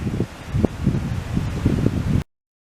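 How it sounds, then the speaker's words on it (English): Gusty wind rushes and buffets close by through trees on a Shenandoah National Park trail, with rustling bursts that rise and fall for a couple of seconds before cutting off. "It's pretty windy though."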